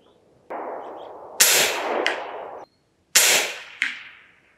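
Two sharp rifle shots from a scoped rifle fired at a target 100 yards away, each a loud close crack followed by a decaying ring, with a fainter metallic impact sound after each, separated by about a second and a half.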